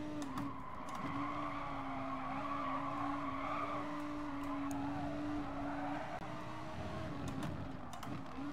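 Lamborghini race car in Gran Turismo Sport running wide off the racing line, a steady engine drone with a sustained tire squeal and skid held for several seconds, no talking over it.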